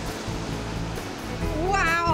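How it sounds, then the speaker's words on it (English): Waves made by a boat slosh and splash steadily on a lake, a continuous broad wash that swells slightly louder toward the end, with a brief tonal squeal near the close. "So we're gonna just make some waves, and then we're gonna shut them off, essentially."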